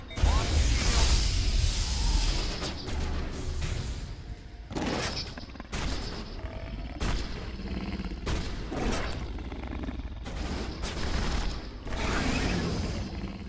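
Rapid bursts of weapon fire from a sci-fi gun in Mass Effect Legendary Edition on Asteroid X57, loud volleys broken by brief pauses as the weapon overheats.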